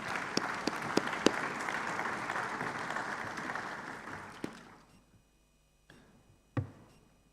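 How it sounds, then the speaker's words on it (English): Conference audience at an African summit applauds panelists, a roomful of dense steady clapping that fades out after about four seconds, followed by near silence and a couple of sharp isolated knocks. "A round of applause for them."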